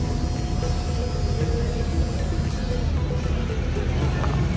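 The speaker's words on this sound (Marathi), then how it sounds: "आता बघा फ्यूल पंप चालू झाल्यावर आवाज येतो." Fuel pump of a Yamaha R15 motorcycle, running with a low fuel tank, gives a steady loud hum with a constant buzzing drone and no breaks, heard close up.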